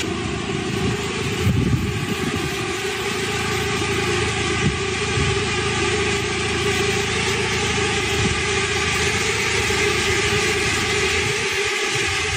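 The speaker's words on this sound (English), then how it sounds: "Drone!" A drone flies overhead with a loud, sustained mechanical buzz and whine that holds fairly steady throughout, with a few brief thumps and rattles near the start and end.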